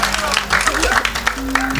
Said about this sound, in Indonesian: Tepuk tangan sederek.